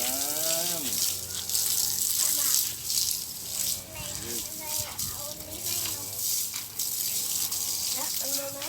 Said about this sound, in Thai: มาดูยายลำดวนอาบน้ำ